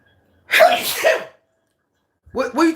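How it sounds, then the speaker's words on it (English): A person sneezes loudly and close by, a forceful burst with a drawn-out tail, and a second sneeze or voiced sound follows after a short silence. "What's making me sneeze?"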